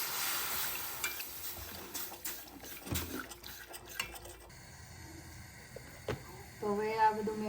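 A spoon scrapes and clinks around a pan as pasta sauce with milk is stirred, intermittent metallic knocks and scraping with a soft simmer, under a person speaking.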